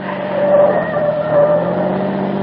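A car speeding recklessly around curves on a road as a sound effect: a steady, close engine roar with a faint tire hiss, swelling twice in loudness, with no voices.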